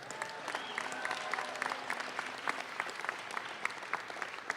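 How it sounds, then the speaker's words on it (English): Faint, steady audience applause at a press conference, heard from a distance as a soft wash of clapping with scattered sharper claps and a few faint voices. "How about a round of applause for all of them?"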